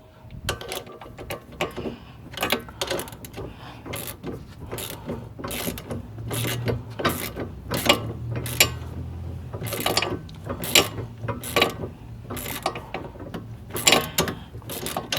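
Rapid ratcheting clicks of 18 mm and 15 mm wrenches working sway bar link nuts on an 04-08 Pontiac Grand Prix rear suspension, steady bursts of close metallic clicking over a low background rumble.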